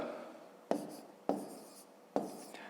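Numbers being written by hand during a fifth-grade math lesson: three crisp, close strokes of pen or chalk spaced about half a second apart, with faint room noise and no talk between them.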